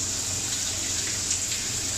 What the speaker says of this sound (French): c'est la douche à recyclage qui tourne